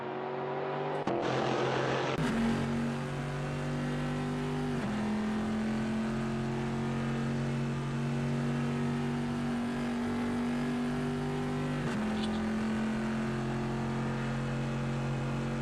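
Porsche GTE race car engine lapping Le Mans in a racing video game, a loud steady high-revving drone with gear-change steps and pitch shifts, heard alone with no talk.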